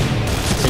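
An AUG A3 rifle fires in the Point Blank shooter game as a short, dense, loud burst of rapid shots filling the whole moment, with no voices.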